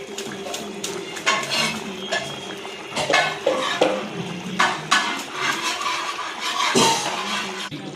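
A spoon stirs mandi kuzhambu, a tamarind-style curry, in a metal pot, scraping and clinking in irregular bursts up close, with faint kitchen background between strokes.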